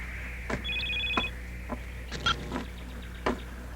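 A telephone rings with short electronic trills, interspersed with a few sharp clicks and knocks, fairly close, no talking.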